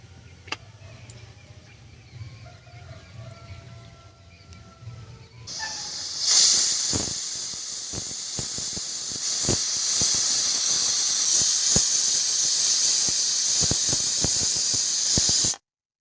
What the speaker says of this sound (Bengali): প্রেসার কুকারটা এখন আস্তে করে বসিয়ে দিলাম, এবারে সিটি পড়তে থাকবে